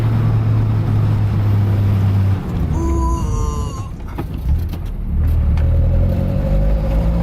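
Toyota AE86 braking hard on performance brakes: a steady engine drone drops away, followed by a short squealing, wavering tone as the car slows, then the engine hum returns.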